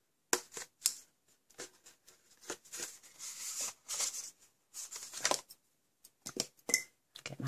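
Small snips cut through paper for a handmade gift box, giving a quick series of crisp snipping and rustling bursts at close range, irregular and separated by short pauses.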